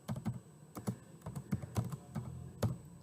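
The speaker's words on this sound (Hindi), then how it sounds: "अब यहाँ पे मैं ज़रा एडिंग टू की कमांड टाइप कर देता हूँ" Keys clatter on a computer keyboard as an HTML command is typed, a close, quiet run of irregular clicks and taps with no voice.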